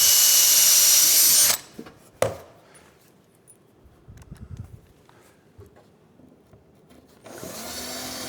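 A power drill drives self-drilling screws while installing a drawer, whirring loudly for about a second and a half, then stops; after a few quiet clicks and handling noises, a second drill burst starts near the end.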